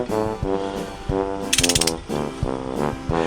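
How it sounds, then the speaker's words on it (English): A ratcheting breaker bar from a set of car tools clicks in quick, rhythmic bursts of metallic pawl ticks, close and loud, with a brief sharper rattle midway. "And yes, you get a ratcheting breaker bar."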